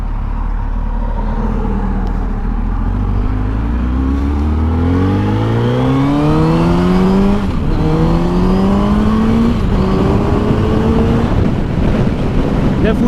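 A 2008 Suzuki Hayabusa sport motorcycle fitted with an aftermarket sprocket accelerates hard on a race track, its engine note climbing steadily through several gear changes. The engine is loud and close, with wind rushing across the microphone.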